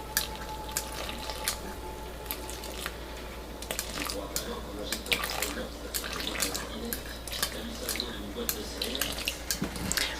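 Lukewarm water runs steadily into a mixing bowl for bread dough, a close continuous pouring hiss with faint drips over a low kitchen hum.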